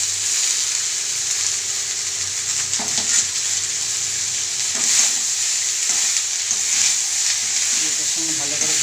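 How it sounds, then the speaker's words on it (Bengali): Malabar spinach berries fry with spice paste in a pan, a steady close sizzle broken by repeated stirring scrapes, with no talking. "এটার সঙ্গে ভালো করে ভেজে নেব মশলার সঙ্গে পুঁই বিটুলিটাকে।"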